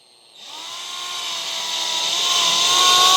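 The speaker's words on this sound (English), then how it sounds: "Kind of push in a little bit and we'll start screwing that one in." A power drill whirs up as it drives a screw into a rear door storage pocket panel, a rising high motor whine that builds steadily louder over a few seconds.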